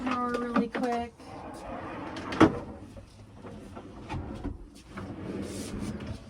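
A storage drawer in a renovated 1965 Oasis travel trailer slides open with a short scraping rattle and a sharp clunk near the middle, close by, among small knocks and shuffling.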